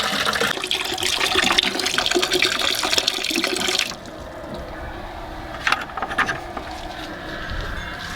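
Liquid flowing and dripping from a tree in freezing weather, a splashy watery rush for about four seconds that then drops to quieter trickling with a brief splash near the end.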